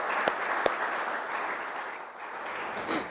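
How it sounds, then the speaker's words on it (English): Audience applause at a grand opening ceremony, a steady wash of clapping from a crowd that holds level throughout, with a couple of sharper claps standing out near the start. "So give them a round of applause."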